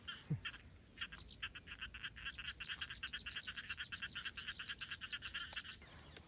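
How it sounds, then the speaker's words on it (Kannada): Frogs croak near water at night in a dense, steady chorus of rapid rhythmic pulses that carries on without a break, with no voices present. "ಕಪ್ಪೆಗಳು."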